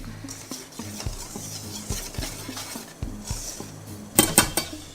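Cornstarch is stirred into drained, blanched bitter melon pieces while making vegetarian bitter melon chips. A utensil scrapes and taps against a bowl in irregular knocks, ending with a louder burst of clatter.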